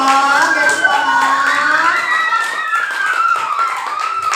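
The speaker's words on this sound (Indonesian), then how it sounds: "Beri tepuk tangan dulu dong." Group of children in a classroom clapping their hands together, rapid and uneven, mixed with high excited shouting and chatter that stays loud throughout.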